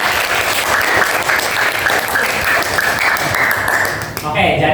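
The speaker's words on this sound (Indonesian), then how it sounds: "Tepuk tangan untuk Lilian." Sustained applause from a crowd, dense steady clapping that carries on for several seconds before tapering slightly at the end.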